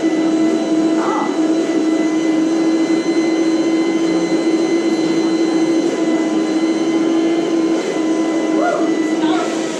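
Steady, loud drone of a Rainbow vacuum cleaner motor running continuously at close range during a home demonstration, with a few faint voices briefly audible over the hum.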